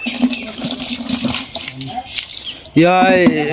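Water poured from a bucket while washing garden plants, a continuous splashing gush that grows louder and fuller toward the end, with voices talking over it.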